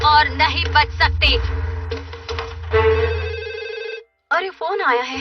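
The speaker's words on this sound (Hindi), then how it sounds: "अरे फोन आया है।" A telephone rings in a Doraemon cartoon, a repeated electronic bell sounding in bursts, with cartoon voices speaking over and between the rings.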